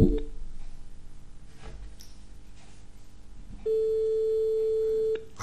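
A telephone rings through while someone calls a singer, a low handset hum followed by one steady sustained tone that cuts off after about a second and a half.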